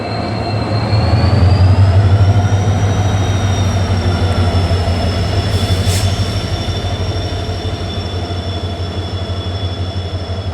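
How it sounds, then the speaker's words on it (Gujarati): A passenger train hauled by a diesel locomotive arrives on the Bhavnagar–Porbandar line, with a deep steady engine rumble under long, thin squeals of wheels on rails. It stays loud and close, with no talking. "તો ડીઝલ લોકોમોટિવ સાથે ટ્રેન અરાઇવલ થઈ ગઈ છે"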